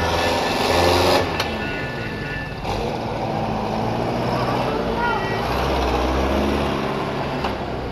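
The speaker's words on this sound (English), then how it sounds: "a truck that picks up trash." Garbage truck collecting trash on a street in Ibb, Yemen, its engine rumbling steadily for several seconds amid traffic noise and a few short mechanical clanks, heard from nearby.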